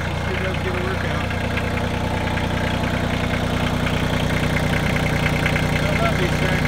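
A Kioti tractor fitted with a stump bucket runs steadily at a loud, even idle, its diesel engine droning throughout with a rhythmic chug.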